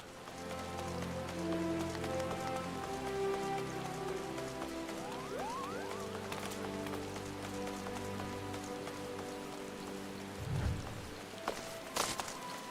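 Rain falls in the Final Fantasy XIV game world as a soft, steady patter on surfaces, quiet under a layer of tonal game music and effects, with a few brief louder bumps near the end.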